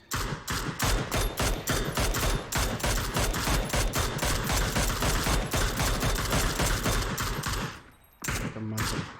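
Dense bursts of automatic gunfire from a PUBG battle rattle almost without pause, loud and close, with rapid overlapping shots, then a brief lull near the end before a final volley.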